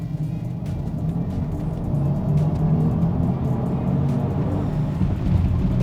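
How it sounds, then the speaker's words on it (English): Mercedes-AMG EQS 53 4MATIC+ electric car accelerating hard in Sport Plus mode, heard from inside as a low, steady rumble of road and tyre noise with a faint whine that swells slightly as speed builds. "I will give you a sense of the acceleration that this car comes with"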